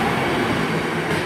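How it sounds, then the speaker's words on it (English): A class 323 electric train pulls out of Five Ways station, its motors and wheels producing a loud, steady, close rumble throughout. "Departing 30 seconds early, it's a 1409 service to Four Oaks."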